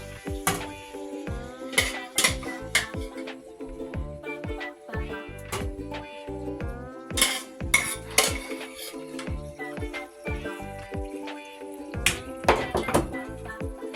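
Ackee is gently stirred and folded into saltfish in a pan for the Jamaican dish, producing soft, irregular clinks and scrapes of a utensil against the metal pan, close and fairly quiet, with no talking.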